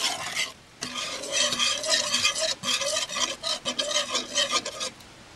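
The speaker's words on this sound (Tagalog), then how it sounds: "Haluin po nating mabuti hanggang sa mawala yung mga buo-buo." Ube maja blanca mixture being stirred in a pot, a close, steady scraping and swishing with a brief pause near the start and no talking.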